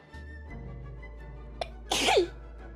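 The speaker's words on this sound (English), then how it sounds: "Sneeze." A single close, sharp human sneeze erupts after a quiet breath-in, brief and loud against a steady low background hum.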